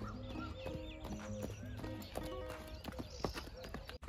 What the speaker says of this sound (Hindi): घोड़ी चला के लिए जा रहे हैं